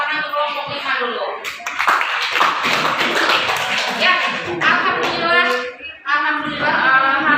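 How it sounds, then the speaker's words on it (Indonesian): A classroom audience claps for a student group after its presentation, a dense burst of applause lasting several seconds, with voices talking over and around the clapping. "tepuk tangan untuk kelompok 5 dulu"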